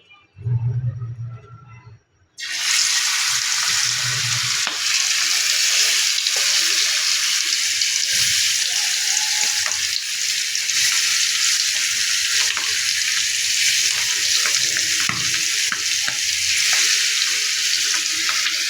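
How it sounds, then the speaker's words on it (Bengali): Chili-spiced aar fish frying in hot oil on a tawa: a loud, steady, close hiss of sizzling oil starts abruptly after a short quiet opening and holds evenly to the end, with no voices. "এবার তাওয়ায় দিয়ে দেবো মাছগুলি ভালোভাবে ভেজে নেবো"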